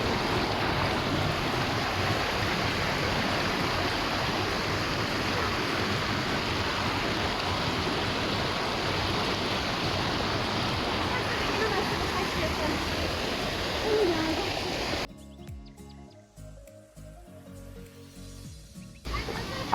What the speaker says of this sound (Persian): حرف نمیزنم، فقط صدای آب داشته باشه.